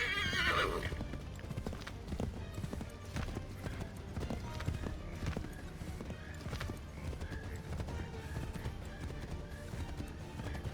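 Horse hooves clip-clop at a steady running pace in Assassin's Creed 3, with a whinny near the start, loud and continuous over a busy game soundscape.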